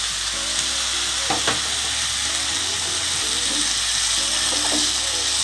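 Chopped potatoes tossed into a hot, sizzling pan for a winter thali: loud continuous frying crackle, close up, with a couple of scraping stirs and brief clatters partway through.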